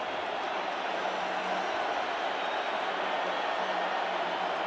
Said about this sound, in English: the Utes have a crowd edge, and they're making some noise now against this Oregon offense